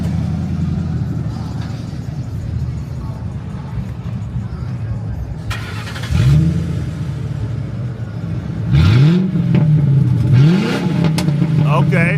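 A Ford Crown Victoria with a muffler-delete exhaust rumbles at a deep idle, then gives two short, throaty revs that rise and fall, heard close and loud with people talking over it.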